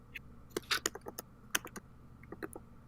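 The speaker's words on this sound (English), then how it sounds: "Maybe I'm just not typing in the right words" Clicks from a computer keyboard come in quick irregular bursts with short pauses, close and fairly soft, no talking.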